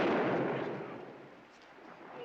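A gunshot in the 1969 western film True Grit: a single booming report at the start that rolls off into a fading echo, with no voices.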